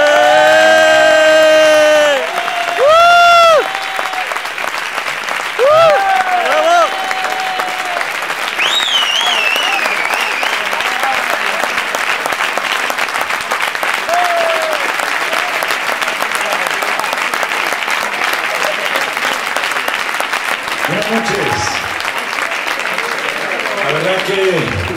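Sustained audience applause for a singer, loud and steady with scattered whoops and cheers from the crowd, after brief singing or talk at the start and with a few voices rising over the clapping near the end.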